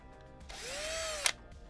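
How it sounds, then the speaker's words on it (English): A power tool with a countersink bit chamfers the end of a PTFE tube during a 3D printer build, giving a single short whirring spin that rises in pitch and then stops with a small click. "little countersink on this. Just chamfer the edge of each end of this PTFE tube"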